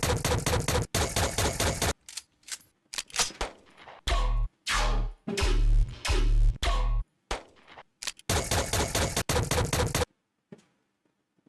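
Bursts of synthetic rapid gunfire made in the Serum synthesizer, loud and punchy, firing in several separated volleys with short silent gaps between them.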